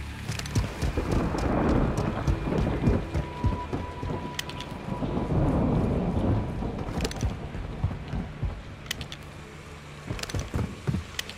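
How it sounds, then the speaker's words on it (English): Heavy rain pours steadily in the Modern Warfare 2 campaign, a dense continuous hiss with low rumbling thunder swelling through the middle, loud and close with no talk. "It's raining fucking hard."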